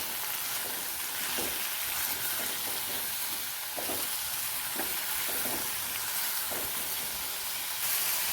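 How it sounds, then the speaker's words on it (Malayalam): Okra and slit green chillies with salt sauté in hot oil for Kerala-style vendakka mappas, a continuous bright sizzling hiss broken by occasional soft stirring knocks, heard alone without speech. "എണ്ണ ചൂടായിട്ടുണ്ട്. നമുക്ക് ഈ വെണ്ടയ്ക്ക ഇട്ട് കൊടുക്കാം."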